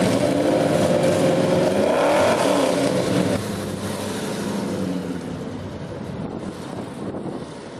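A Shelby GT500 Mustang with a 428 Cobra Jet engine backs onto a trailer, its loud, rough engine note swelling in a brief rev before settling into a steady idle, all buffeted by wind noise on the microphone.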